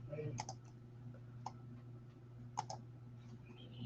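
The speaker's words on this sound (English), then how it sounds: "You can definitely hear me typing." Computer keyboard keys click in sparse, irregular taps over a steady low hum, a few sharper clacks standing out in a quiet room.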